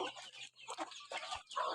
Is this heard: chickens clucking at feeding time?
yes